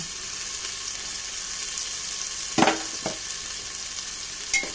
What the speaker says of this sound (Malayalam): നല്ല പോലെ നമുക്കൊന്ന് വഴറ്റിയെടുക്കാം